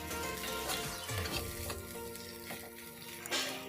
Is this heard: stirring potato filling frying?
yes